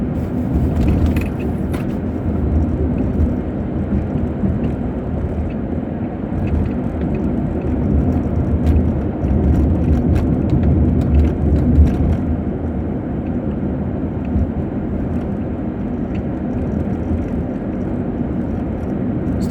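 A car drives through Columbus city streets off High Street, with a steady engine and road rumble alongside passing traffic. The noise stays continuous and fairly loud throughout, with no talking.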